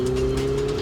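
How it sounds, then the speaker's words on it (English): A Ferrari 488 Spider's V8 engine revs loud and close through a 7-speed dual-clutch gearbox, a steady high drone with a strong tonal hum and slight pulsing, without talk. "Running up to the red line while flicking your way through the instantaneous 7-speed dual-clutch gearbox delivers a brilliant V8 noise"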